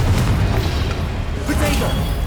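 Fiery Confringo blasting-curse explosions in the Hogwarts Legacy video game rumble as a dense, heavy boom that stays loud throughout, with a voice speaking over the din.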